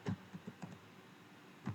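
Several quick keystrokes on a computer keyboard, entering a local web address, come in a short irregular burst of soft clicks with a pause before a final tap, recorded close and fairly quiet.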